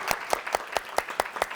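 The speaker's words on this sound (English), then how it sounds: "A big round of applause for our panelists." An audience applauds the panelists at a talk on becoming a film producer, a faint but steady run of crisp, evenly spaced claps.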